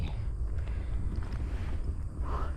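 Steady wind rushes and buffets the microphone outdoors while fishing for Siamese gourami with bread bait, a constant loud roar with no talking.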